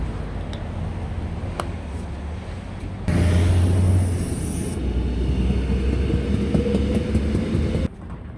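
A train rumbles past nearby, a steady mechanical roar that swells louder midway with a brief high hiss, then cuts off abruptly.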